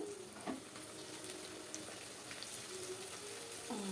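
Eggplants frying in oil for an Andhra-style stuffed eggplant curry, giving a steady, close crackling hiss that runs throughout with small bubbling pops.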